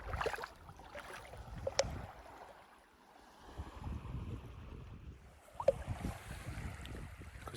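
A boat is paddled out on the sea off a wild beach at Arisaig in Scotland at sunset, with soft, faint water sloshes and occasional light splashes against a quiet background.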